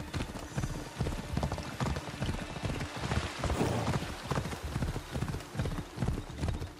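Horse hooves clip-clop steadily while riding in the video game Assassin's Creed Odyssey, a continuous rhythmic trot at close range with faint rain-like hiss and no talk.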